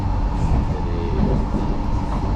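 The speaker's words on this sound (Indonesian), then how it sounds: "Jadi inilah suasana Singapura dari atas kereta api" Steady rumbling of a Singapore MRT train while riding on board, a continuous low drone with wheel and track noise and no talking.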